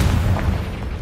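A Confringo fire spell in the video game Hogwarts Legacy explodes as a loud, close, deep boom that rumbles on through the short moment, with no voices.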